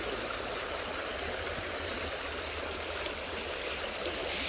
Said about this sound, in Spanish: Este río creo que viene hacia la montaña